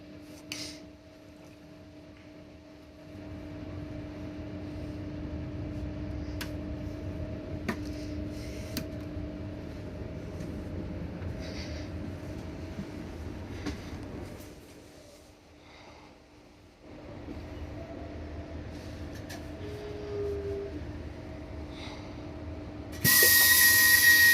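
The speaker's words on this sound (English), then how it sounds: "welcome aboard this Southeastern Javelin to St Pancras International." Steady electric train interior hum with a low rumble and constant tonal whine, brief quieter dip midway, then a sharp electronic chime near the end, aboard a Southeastern Javelin train to St Pancras International.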